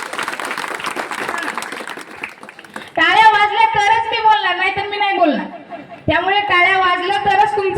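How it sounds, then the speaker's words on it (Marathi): A crowd claps briefly at a village civic felicitation ceremony in Yergi. The applause fills the first couple of seconds and fades, then a loud amplified voice takes over. "टाळ्या वाजल्या पाहिजेत"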